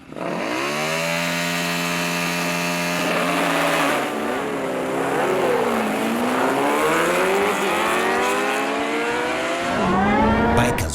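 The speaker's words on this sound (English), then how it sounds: "Bikers would say there's something satisfying about the rev of a bike's engine." Racing motorbike engines at a Kenyan bike racing event rev hard and close, with high whining pitches climbing and dropping through repeated throttle bursts and overlapping bikes.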